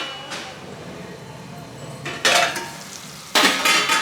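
Ridge gourd pieces fry in a pan while being stirred, a low steady sizzle broken by two louder scraping, clattering bursts of the spoon against the pan near the end.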